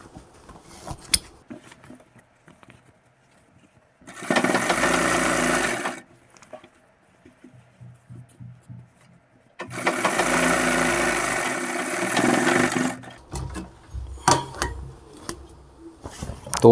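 An electric sewing machine stitching elastic onto the waistband of a half-elastic pant runs in two loud steady bursts of a few seconds each, separated by quiet handling of the fabric and clicks.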